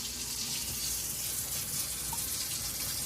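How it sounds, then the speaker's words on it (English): Water runs steadily from a tap over freshly churned butter made from Nigerian Dwarf goat cream, a continuous close hiss and splash with no talking. "Okay, time to wash the butter."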